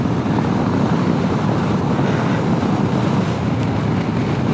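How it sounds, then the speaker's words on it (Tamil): Strong wind roars steadily across an open lake in the Rann of Kutch salt desert, a loud continuous buffeting rush that batters the microphone for the whole stretch, with no voices. "காற்று பயங்கரமாக அடிக்குது."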